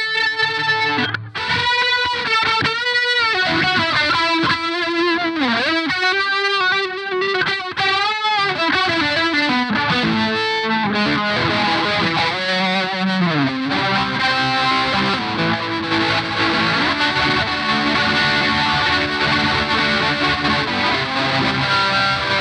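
A Stylus guitar effects pedal with distortion and every control cranked churns out dense, saturated wah-like sweeps and gliding tones, loud and continuous for over twenty seconds with no talking.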